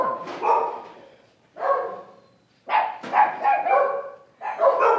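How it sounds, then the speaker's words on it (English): A Border Collie mix dog barking in about five loud, close bursts, spaced irregularly with short silences between them. "Mia is a Border Collie mix"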